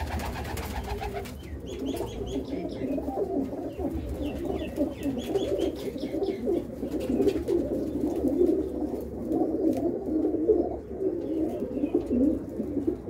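A Lalchina pigeon cooing close by, a continuous run of soft throaty coos with a few faint chirps from other birds, no talk.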